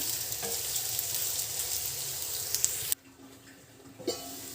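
Soya chunk (meal maker) curry fries in a pan with a steady, close sizzle that cuts off abruptly partway through, leaving a quiet stretch with a faint clink.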